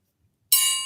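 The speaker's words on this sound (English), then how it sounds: "Ooh, dinner bell." A dinner bell strikes once after a short silence, ringing bright and metallic and then decaying slowly.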